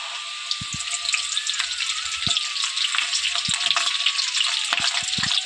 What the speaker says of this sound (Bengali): এখন আমি অল্প কিছুটা দিয়ে দিচ্ছি চুষিগুলো চুষিগুলো দিয়ে খুব ভালোভাবে কিন্তু ভেজে নিতে হবে